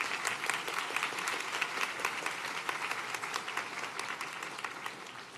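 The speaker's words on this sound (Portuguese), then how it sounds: "pedir mais uma vez uma salva de palmas pela coragem de vocês estarem aqui" Steady, full applause from the audience at a seminar opening session, clapping for the young people present, with individual claps audible in the dense, even wash throughout.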